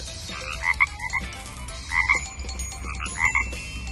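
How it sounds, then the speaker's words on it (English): A frog or toad croaks in a park in three quick clusters of short, raspy calls, with quiet stretches in between and a low outdoor hum underneath. "It's a frog. Or a toad."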